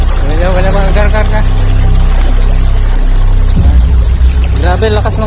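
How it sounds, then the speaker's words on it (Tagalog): Strong rushing river water at a river crossing on the way to Takwelan Falls in Viga, Lasam, Cagayan, a loud continuous roar under voices talking throughout. "Grabe, lakas ng tubig"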